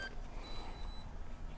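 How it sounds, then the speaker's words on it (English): A Marten crawlspace inspection robot gives a faint, steady high beep signalling its connection, thin tones running through the middle of the clip over low background rumble. "you hear that beep, it's already connected"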